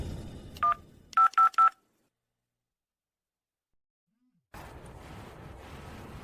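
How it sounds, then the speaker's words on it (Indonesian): A mobile phone rings with a short, bright electronic tone, then three quick repeated beeps close by. Silence follows, then a murmur of room noise returns. "HP-nya bunyi, beneran bunyi."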